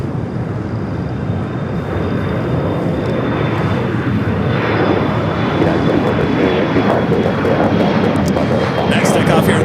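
A jet airliner takes off from the south side runways at Los Angeles International Airport, its engine roar loud, broad and continuous as it builds slightly, heard from a distance with no pause.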